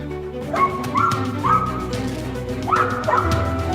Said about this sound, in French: Un seul aboiement sec a suffi à assurer la sécurité de la famille.